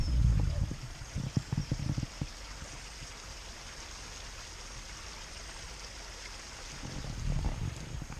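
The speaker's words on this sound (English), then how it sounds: "I found this little waterfall next to the road the other day." A small roadside waterfall rushing in a steady broadband wash of water noise, with louder bursts of close splashing or handling at the start and end.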